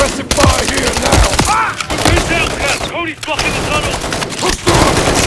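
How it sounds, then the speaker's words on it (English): Heavy suppressive gunfire in the Call of Duty video game: dense, loud automatic bursts and overlapping shots that run without pause, with shouted voices mixed into the firefight. "We need suppressive fire here now!"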